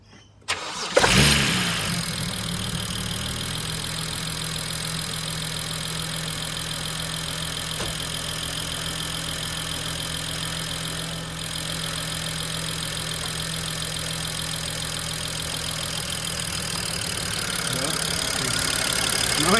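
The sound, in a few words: engine starting and idling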